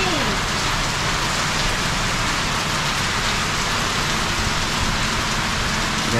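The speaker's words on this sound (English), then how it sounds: "Hella rainy. How nice. Island rain." Steady, heavy rain pours down on an island, Islas de Gigantes, in a dense, continuous hiss with no break.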